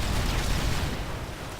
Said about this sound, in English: The explosions in this game are really, really good.